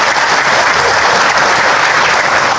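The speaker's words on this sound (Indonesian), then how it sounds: "Tepuk tangan buat semuanya." Loud, dense applause from a crowd of volunteers at a political rally, steady and continuous as a close wall of clapping with no gaps.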